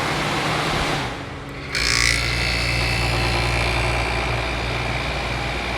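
A restored 1973 Gibson 8000 BTU window air conditioner hums steadily on low cool, with a loud, even motor drone and a brief dip before the blower settles into a constant whir.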